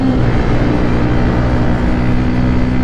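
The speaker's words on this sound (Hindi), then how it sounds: "यहाँ पे चल रहा है गाइस आर्मी वालों का काफिला" A convoy of army trucks rolls past on the road, a loud, steady low engine rumble and road roar close by without pause.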